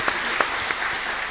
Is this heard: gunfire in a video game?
no